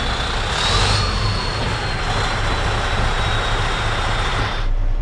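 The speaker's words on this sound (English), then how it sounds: "I'll roll forward at about 5 miles per hour, loosely holding the steering wheel. Then I'll stop by engaging the clutch and brake" Truck rolling forward slowly at walking pace, then braking to a stop, heard as a steady close engine rumble with broadband road and air noise that cuts off abruptly near the end; no talking.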